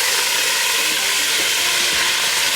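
Seasoning thrown into a pan of hot frying oil while preparing Jamaican-style Cornish hen, giving a steady, loud broadband sizzle and hiss that stays unbroken for the whole stretch, close to the pan, with no talking.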